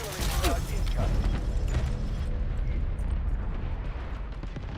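Artillery barrage in the shooter game Delta Force, a continuous heavy rumble of overlapping blasts and low booms, dense and loud throughout with faint background voices.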